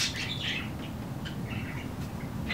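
A rescue parrot gives a few short, bright calls and chirps, scattered over a steady low background hum. The calls are fairly faint and come in brief bursts.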